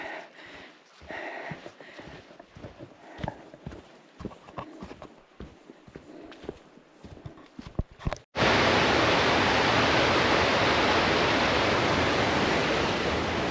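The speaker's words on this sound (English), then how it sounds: "Beautiful waterfall," A steady, loud roar of a waterfall's rushing water in Sweden, starting abruptly after several seconds of scattered clattering and knocks, then continuing without a break.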